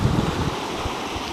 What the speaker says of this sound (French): c'est chiant les vagues